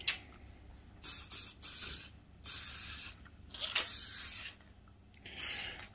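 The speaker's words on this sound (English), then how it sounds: "Silicone spray." Silicone spray hisses onto the rubber parts of a Honda CB750 K2 motorcycle during a triple clamp replacement, in several short separate bursts close to the microphone, with quiet gaps between them.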